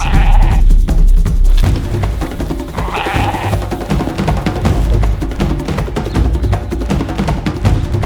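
Merino sheep, a dual-purpose wool and meat breed, bleating loudly and close up at the start and again around three seconds, over a steady low rumble of farm background noise.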